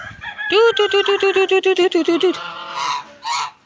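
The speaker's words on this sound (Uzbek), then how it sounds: "Mana bizda parranda böyle" Poultry birds call loudly and close by in a rapid run of honking, crowing-like pulses, followed by a few shorter cries.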